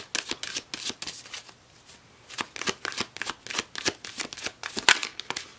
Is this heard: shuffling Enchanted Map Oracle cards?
yes